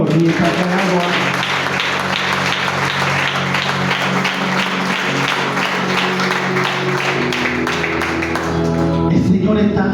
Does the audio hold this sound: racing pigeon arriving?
no